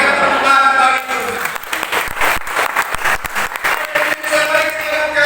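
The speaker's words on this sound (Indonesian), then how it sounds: "Berikan tepuk tangan bagi Tuhan." Church congregation applauding during a Christmas worship service, a dense wash of clapping with crowd noise and some voices mixed in, loud and sustained throughout.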